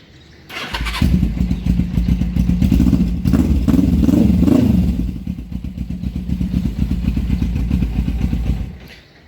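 A Suzuki GS500 motorcycle engine cranks and catches after a brief pause, then runs loud and close, rising in a couple of revs before settling to a lumpy, steady idle.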